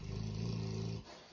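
A sleeping dog snores at night with a low, rumbling drone that holds steady for about a second and then eases off, close and fairly quiet.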